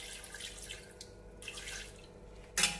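Water trickles and splashes into a cooking pot in a home kitchen while making beef reshmi kabab, a soft continuous pour ending in a brief louder splash.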